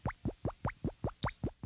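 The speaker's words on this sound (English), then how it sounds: "It's the sound of Sacramento tomato juice plopping into a glass" Thick tomato juice plops into a glass in a quick, even series of about nine wet, low-pitched glugs, close and clear with no talking.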